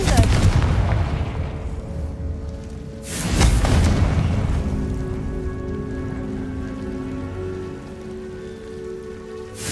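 A Confringo blast spell goes off in the Hogwarts Legacy game. The loud, broad burst sits over steady rain-like noise, and a second heavy boom lands about three seconds in.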